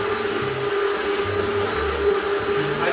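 Electric mixer whirring through pancake batter, a steady motor drone with a fixed pitch and a rough churning rumble underneath, close and continuous for the whole stretch.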